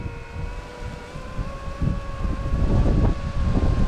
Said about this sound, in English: And I'm really fighting the wind. I'm probably heading into the wind.